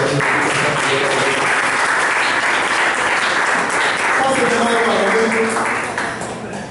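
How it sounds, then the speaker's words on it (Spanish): A Pentecostal evangelical church congregation breaks into loud, sustained applause that fills the space, with dense clapping throughout that starts to fade near the end. "Denle un fuerte aplauso al Señor."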